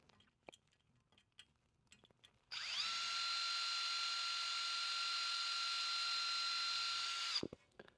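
A power drill whines at a steady high pitch for about five seconds while drilling a hole in metal, preceded by faint clicks and handling noises, then stops abruptly.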